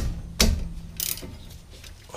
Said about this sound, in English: remove the 12 millimeter bolts holding the caliper on